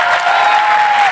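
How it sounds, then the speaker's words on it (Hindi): Loud, dense applause from a large rally crowd honouring dignitaries on stage, a steady continuous roar of clapping with no pauses. "एक बार जोरदार ताली"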